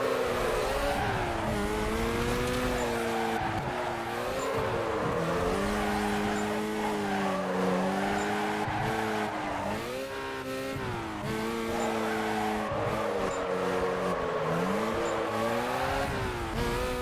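A Mazda RX-8 drifts in Need for Speed Carbon, its rotary engine revving up and down in wavering tones under sustained tire squeal. The racing sound is loud and continuous, and nothing else can be heard.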